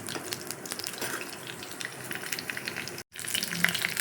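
Garlic fries in a couple of spoons of oil in a pan for a horse gram stew, a steady soft sizzle with crackling bursts, briefly cut off before resuming a bit louder.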